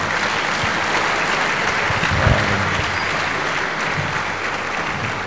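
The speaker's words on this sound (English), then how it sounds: "Ladies and gentlemen, please a round of applause for Professor Doki again." A large audience applauds steadily at a university inaugural lecture in Jos, a sustained, dense wash of clapping from a big hall that holds a constant level for several seconds.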